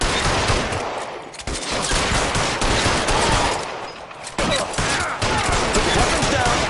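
Sustained gunfire from L.A. Noire, with dense automatic bursts and rapid shots that pause briefly twice before resuming, loud and close throughout.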